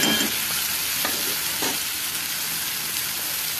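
Dry spices frying in oil in a pan, a dense steady hiss of sizzling with a few soft scrapes of stirring, close and fairly loud, no voices.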